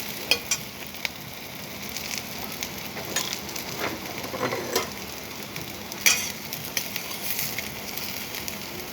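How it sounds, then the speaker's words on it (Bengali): Soybean chunks fry in hot oil with a steady, close sizzle, broken by bursts of stirring and scraping in the pan. "সয়াবিন ভাজাটা উঠিয়ে নিচ্ছি"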